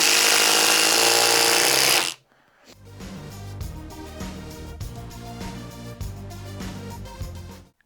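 A Ridgid 4-mode impact driver, on the new mode, sinks a 3 1/8 inch GRK screw: about two seconds of loud, dense whirring, then a stretch of quieter, steady rapid hammering clatter until the screw seats.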